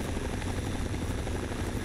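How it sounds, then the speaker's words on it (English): A helicopter in the Fallout 3/New Vegas video game gives a steady, loud rotor drone that fills the whole moment with no pause. "I think I hear some helicopter sound."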